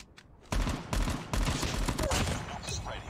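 Rapid bursts of gunfire in the mobile video game Call of Duty Mobile, loud and close, with several short automatic volleys in quick succession and faint voice chat underneath.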